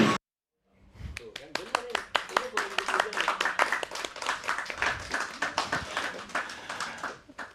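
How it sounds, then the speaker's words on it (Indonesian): Studio audience in a television talk show studio clapping steadily, a dense, close burst of hand claps that starts suddenly and holds at an even level throughout. "teman-teman yang ada di studio itu tersenyum sambil tepuk tangan"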